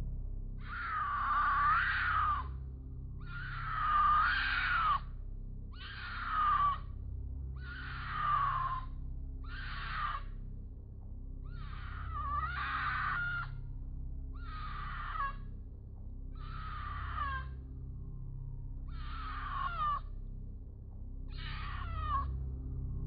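Eerie, drawn-out screams of a possible mountain lion, about ten high wavering cries repeating every couple of seconds over a low steady rumble, moderately distant with no talking.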